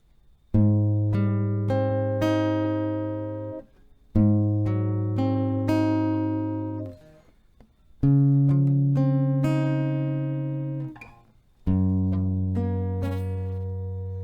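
Four strummed acoustic guitar chords from a song, each struck and left ringing for a few seconds before the next, played slowly in sequence.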